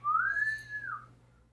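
A single clear whistle rises in pitch, holds briefly, then slides down and fades, close and alone with no talking.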